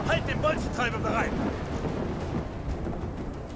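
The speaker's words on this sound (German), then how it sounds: "Der Supersturm ist zu stark." A thunderstorm rumbles in Black Ops 3, with heavy thunder and pounding rain up front and a stormy wash continuing underneath as the rumble fades.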